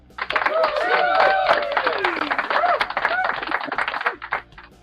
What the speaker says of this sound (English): Raise your hands and clap.